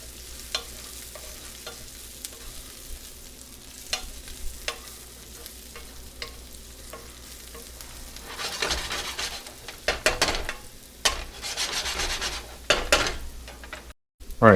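Shallots sizzle in a pan as they are stirred, a soft steady fry with scattered clicks early, then louder clattering scrapes of the utensil against the pan in bursts toward the end.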